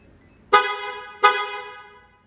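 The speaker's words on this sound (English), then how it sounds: "you can use the car find feature, which will honk the horn and blink the lights both twice." A 2019 Mazda 3's horn, triggered by the remote car-find feature, gives two short, loud honks about a second apart, each fading quickly into quiet.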